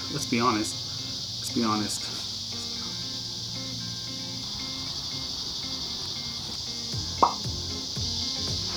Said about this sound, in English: Cicadas need to stop making their noise.